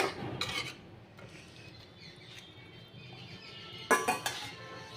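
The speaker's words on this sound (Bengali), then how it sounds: "আমি ঢাকা দিয়ে দিলাম।" A lid set down on a pot of hilsa fish curry with potato and aubergine, giving a couple of close metallic clinks near the start and a brighter cluster of clatters later, with quiet kitchen background between.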